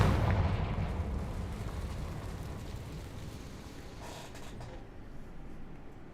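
A Confringo fire spell blast in Hogwarts Legacy erupts as a loud, rumbling roar with crackling, creaking texture that holds steady for several seconds, then slowly thins out, with no talking.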